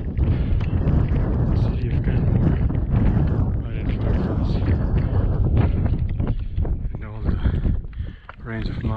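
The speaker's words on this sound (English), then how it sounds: "the wind is still blowing." Strong wind roars steadily across an exposed mountain ridge on a Grotto Mountain scramble, loud buffeting rumble filling the whole stretch with a dip near the end, while people talk over it.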